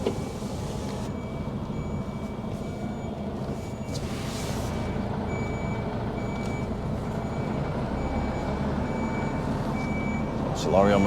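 A lorry reverses at a vehicle unloading yard with a steady, evenly spaced reversing beep over a continuous engine rumble and background traffic noise, with a brief louder sound near the end.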